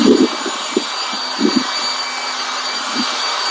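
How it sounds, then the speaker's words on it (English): A cordless leaf blower runs at a steady, loud, airy whoosh with a faint whine above it, and a few soft low thumps break in early on. "So this is how the blower works."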